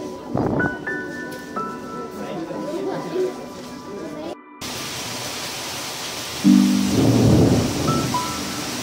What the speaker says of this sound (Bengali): বাইরে প্রচন্ড বৃষ্টি।